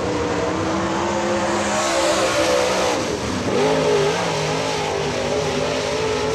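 A Rocket chassis dirt late model race car roars through a qualifying lap at Atomic Speedway, a loud sustained engine drone rising and falling in pitch with a dip as it passes and continuing alone.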